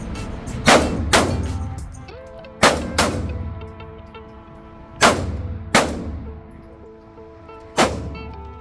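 Pistol shots ring out at a shooting range, six sharp loud cracks in irregular pairs and singles, each followed by a ringing metallic decay.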